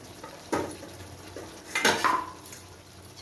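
A lid is set over a pot of potato and parshe fish curry while it braises over medium-high gas, producing a few light metallic clanks and scrapes over a low background.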